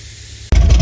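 Compressed air blasts dust off a Plymouth Scamp car body before painting, a sudden loud, steady hiss of air that starts after a quiet stretch of background hum and continues close up.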